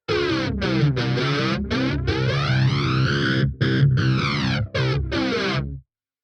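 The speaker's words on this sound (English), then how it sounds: "I don't mind my flange being a little bit slower as well, because I like the slow ascend and descend in my flange" A distorted electric guitar riff recorded directly through a Vox ToneLab EX with a slow flange sweeping up and down, played loud and chordal with brief stops, then ending abruptly into silence.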